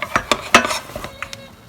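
Dauphine potato dough is stirred in a saucepan over heat, a spoon scraping and knocking against the pan in several uneven strokes, close and fairly loud, with quiet gaps between.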